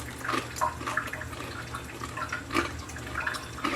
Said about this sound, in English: Let me turn that water off so we don't hear that in the background.